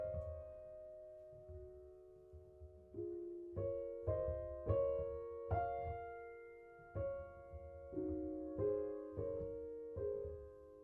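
Solo piano playing a slow passage of Debussy's Clair de Lune, soft left-hand bass notes under a brighter right-hand melody, with gently spaced chords that bloom and decay one after another.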